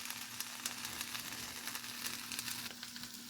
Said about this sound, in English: Yep, those onions are starting to caramelize nice. The sausage get a little bit of color on it.